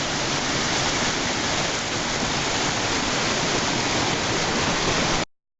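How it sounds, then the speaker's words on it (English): Constant rushing of Sawmill Run stream water, loud and close, a dense unbroken wash that cuts off abruptly at the end. "This is the water we can hear."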